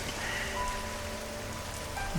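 Steady rain patters continuously on a surface, a dense even hiss with no pauses and faint tonal hum underneath.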